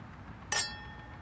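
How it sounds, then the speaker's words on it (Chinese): Glasses of peach blossom liquor clink once in a toast, a single bright, ringing chime that lingers briefly against a quiet room. "干杯。"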